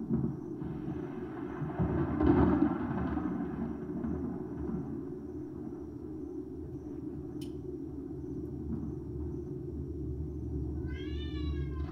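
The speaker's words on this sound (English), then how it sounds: "Is that my cat?" A domestic cat meows indoors, heard faintly under the loud music and hum of the room, with a short rising cry near the end, and no one talking.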